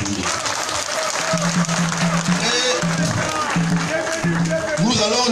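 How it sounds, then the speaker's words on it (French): Crowd applauding at a large outdoor political party meeting on an esplanade in Mbouda, with steady dense clapping throughout and voices calling out over it. "Applaudissez"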